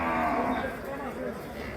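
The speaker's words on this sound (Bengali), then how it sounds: "এই যে সবচেয়ে বড় গরু" A large cow at a crowded Qurbani cattle market on a rainy day gives one long, loud, close moo that slowly fades, with a faint trace of other sounds behind it.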